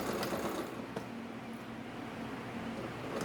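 A sewing machine runs continuously with a steady mechanical whir, stitching gathered fabric; the sound is close and even, with no talk.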